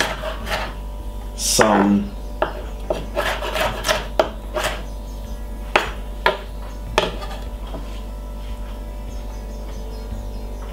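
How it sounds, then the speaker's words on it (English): A kitchen knife slicing a red pepper on a cutting board while preparing vegan vegetable wraps, giving a string of short, close, crisp cuts and board taps with a brief rasp, under light talk. "I'm cutting up some red pepper"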